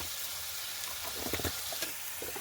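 Spices frying in a pan for biryani, a dense close hiss and sizzle with brief bursts of spattering as the pan is stirred.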